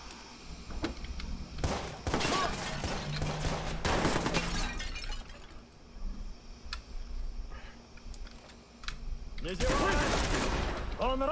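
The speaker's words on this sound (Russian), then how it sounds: "Внимание, я слышу выстрелы." Bursts of rapid gunfire crackle in clusters over background noise, with sharp single shots scattered between the volleys, in the video game Watch Dogs.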